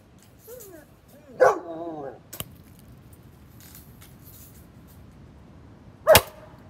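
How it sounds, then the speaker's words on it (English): A dog gives a few sharp barks, one drawn out with a whining edge, then a single loud bark later, amid quiet background and some jangling, near a Chevy Camaro being destroyed. "Why are you barking? Why did you bark?"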